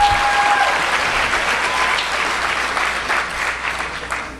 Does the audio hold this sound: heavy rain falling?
no